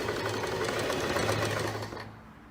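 Sewing machine stitching a blouse seam, starting with a backstitch, a close rapid mechanical whirring hum that runs steadily for about two seconds and then stops.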